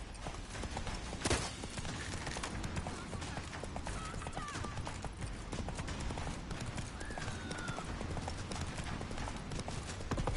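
A horse gallops in the video game The Witcher 3: Wild Hunt, its hooves drumming in a fast, steady clip-clop rhythm, close and continuous, over a background of game ambience.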